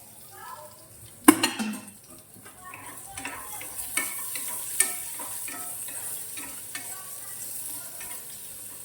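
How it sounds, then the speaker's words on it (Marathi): Onion frying in oil in a home kitchen, a steady low sizzle with scattered stirring scrapes and a sharp clatter of a pan or utensil early on, heard up close with no talking. "कांदा भाजत आला आपला खोबरं टाकतो"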